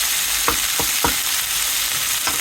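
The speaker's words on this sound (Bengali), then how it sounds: "এই যে কালকে যে আমি বরবটি করেছিলাম সেগুলোই এখন ভাজি করতেছি। তেলে দিলাম" Yardlong beans fry in oil in a home kitchen, giving a steady close sizzle broken by a few sharp scrapes of a stirring spoon against the pan.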